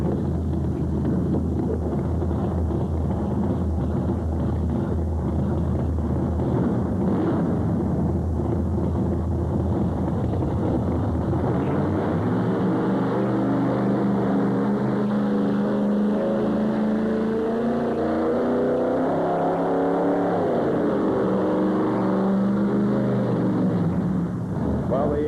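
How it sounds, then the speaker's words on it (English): A pulling tractor's engine drones loudly and continuously through a run, failing to climb in revs, then shifts into a wavering, laboring tone partway through, with wind noise over the microphone. "Engine not coming up in RPM for him, so apparently something a little bit wrong with the brandy machine here tonight."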